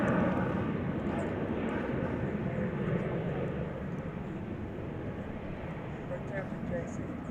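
A Qatar Airways jet in oneworld livery at DFW Airport produces a broad, steady roar at moderate distance, with a voice talking over the engine noise throughout.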